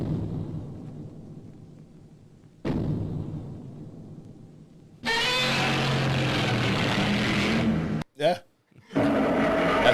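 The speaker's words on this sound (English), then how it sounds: "that's what they used to create the original 1954 Godzilla roar" The original 1954 Godzilla roar plays in several loud bursts: a bellowing tone that trails off, a second similar blast, then a longer harsh screeching roar with brief gaps. A single short spoken word is heard.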